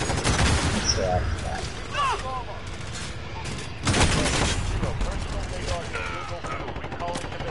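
Video game gunfire in Call of Duty, with rapid bursts and volleys of shots and heavier booms over a continuous battle din, while someone talks over part of it.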